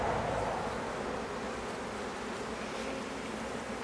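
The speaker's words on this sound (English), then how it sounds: "But these are nice docile bees," Docile honey bees swarm around an open hive in a dense, continuous buzz that stays steady and close the whole time.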